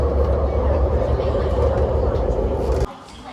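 A Hong Kong metro train rumbles steadily with a low, constant roar, then the sound abruptly drops away near the end.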